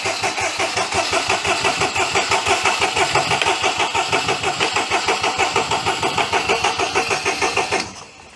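A Daihatsu Charade engine cranks steadily on the starter without catching, a rapid rhythmic churning that runs loud and close for about eight seconds before cutting off.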